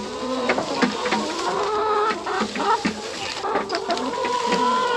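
Several farm chickens cluck and murmur close by, with soft pecking taps on the camera scattered throughout and no people talking.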